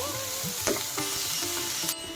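Hot oil tempering for baingan bharta sizzles steadily with a crackling hiss, broken by a couple of sharp spatters and faint stirring clinks.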